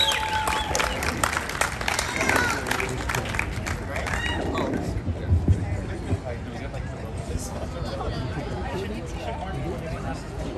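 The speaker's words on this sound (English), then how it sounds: "Let's do one more round of applause and we'll get started." An outdoor screening audience applauds after a Q&A for the film Suburbia, with scattered claps, cheers and crowd chatter that ease into a steady murmur of voices.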